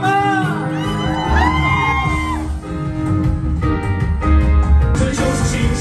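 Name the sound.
crowd screaming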